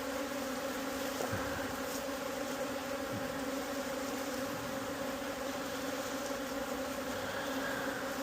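Honey bees buzz around an open, smoked hive during a MAQ formic acid treatment swap, a dense, steady drone filling the whole stretch with a faint steady hum beneath it and no talk.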